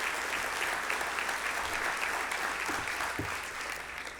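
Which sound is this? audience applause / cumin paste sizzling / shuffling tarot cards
audience applause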